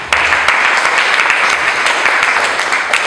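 A church congregation applauds, a dense, loud burst of many hands clapping continuously with scattered sharper claps standing out.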